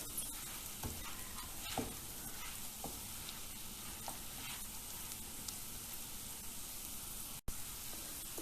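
Spices such as turmeric and red chili powder sizzle in a pot for one-pot rice and lentils, a steady broadband frying hiss with scraping stir strokes throughout, close and moderately loud, with no voices.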